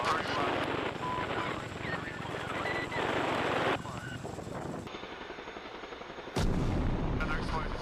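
Explosions and gunfire from mortar rounds during combat, mixed with rotor or aircraft noise, loud dense bursts across the recording with a sharp blast near the end; radio chatter runs underneath.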